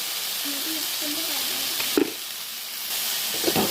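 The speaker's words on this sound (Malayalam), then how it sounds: "ഇനി ഇതിലോട്ട് കുറച്ച് ഉപ്പ് ചേർത്ത് കൊടുക്കാം." A wild bitter gourd stir-fry sizzles and hisses steadily in a pan as salt is added, with a couple of spatula knocks and stirring scrapes breaking through the frying noise.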